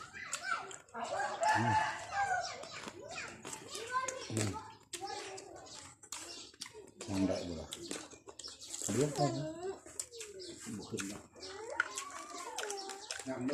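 A rooster crows nearby among lively chatter from children and adults, the crowing rising through the mix of voices.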